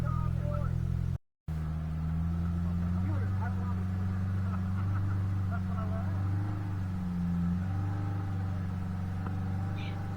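A Polaris Pro R side-by-side crawls slowly over a rocky trail at Sand Hollow, its engine holding a low, even drone with small shifts in pitch while people talk over it, briefly cut out near the start.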